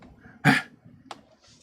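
A dog gives a single short, sharp bark nearby, followed a moment later by a brief softer yelp or huff, in an otherwise quiet room.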